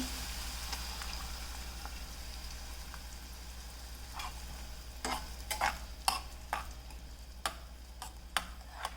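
Egg cooks in a pan for a green gram and egg palya, a soft, low sizzle with a series of sharp scraping and tapping stirs that grow more frequent toward the end, no talking.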